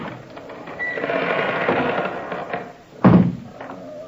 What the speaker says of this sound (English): the door opened slowly